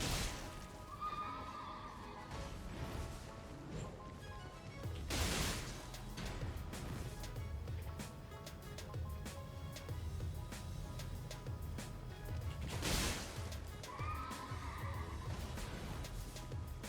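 A horse in the Elden Ring Nightreign video game whinnies twice, loud bursts several seconds apart, over a continuous bed of clip-clopping hooves and game background sound.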